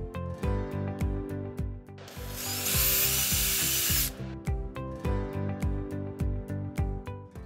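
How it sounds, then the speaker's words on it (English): A power drill whirs in a burst of a second or two, drilling holes in a mason jar lid, set against a steady rhythmic background of ticking, knocking beats. "we have to drill two holes at the center of the mason jar lid"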